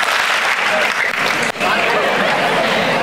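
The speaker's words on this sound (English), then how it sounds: "1, 2, 3, clap." A large student audience at an induction programme claps together in a loud, dense burst, a roaring wash of hands close and full, briefly dipping midway before surging again, with crowd voices mixed in.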